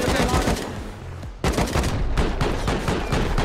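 Automatic gunfire rattles in rapid, sustained bursts from auto turrets defending a base during a raid in a survival video game, with a short lull before the firing resumes loud and close.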